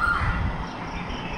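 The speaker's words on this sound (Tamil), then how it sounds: "பாருங்கள் குயில் எப்படி கூவுதுன்னு." An Asian koel calls at about 4:30 in the early morning, a brief whistled note at the start followed by steady, fairly loud background noise.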